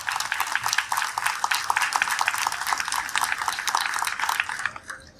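Sustained applause from a crowd at a Salvadoran government aid-delivery event, dense steady clapping for about five seconds before tapering off abruptly at the end.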